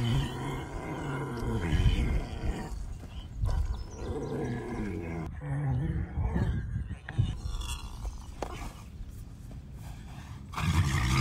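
Deep, drawn-out groans and grunting roars from a large animal, loud and close, rising and falling over several seconds without speech.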